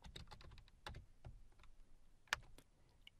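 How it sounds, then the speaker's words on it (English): A short DOS-style navigation command typed on a computer keyboard in PowerShell: a quick run of close, crisp key taps, then a louder keystroke, probably Enter, and a few more taps, with no voice. "I'll type cd dot dot."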